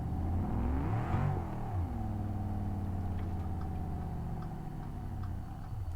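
Turbocharged street car engine in BeamNG Drive revving up high, a loud continuous rising and falling drone with a whirring turbo note, swelling near the one-second mark and then holding a steady high-rev tone.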